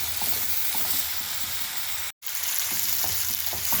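Garlic and ginger fry in a pan while being stirred, a dense steady sizzle with soft scraping, broken by a brief silent gap before the frying resumes.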